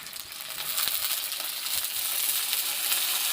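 Dal hitting a hot pan in a village kitchen, a steady bright sizzle that swells and holds loud and close, with faint scraping underneath and no talking.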